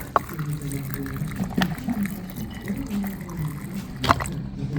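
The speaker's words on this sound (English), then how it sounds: "So now we're just going to top these guys off with a little bit of water." Water poured into canning jars of diced carrots, light liquid splashing and dribbling in short bursts with a couple of sharp clinks, fairly close, with a voice talking over it.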